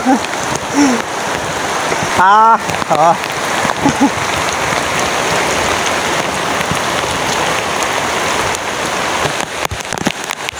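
Heavy rain pours steadily as a dense, loud hiss throughout, with brief voices talking over it early on.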